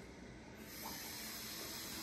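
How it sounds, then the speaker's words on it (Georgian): Tap water runs into a container at home, a steady hissing rush that grows slightly fuller as the flow strengthens partway through. "ეხლა ამას ვავსებ წყლით დანარჩენს"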